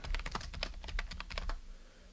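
Quick, even keystrokes clatter on a computer keyboard as a track name is typed in music software, about a dozen close taps in a fast run that then stops.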